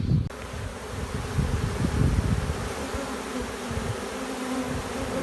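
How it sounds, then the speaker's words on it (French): A dense swarm of honey bees, gathered while being collected, buzzes continuously up close, a thick droning hum with individual wingbeats flickering through, no voices. "il faut laisser le temps à toutes les petites abeilles de prendre leur place"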